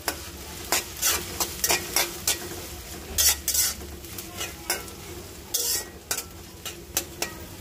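Onions and garam masala sizzle in a pan while a spoon scrapes and stirs in repeated sharp strokes over the steady frying hiss.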